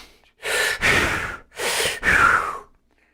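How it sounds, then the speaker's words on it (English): Heavy breathing pushes straight into a microphone in four loud, rough breaths, each inhale or exhale lasting about half a second with short pauses between them. "Dude, stop breathing on your fucking mic."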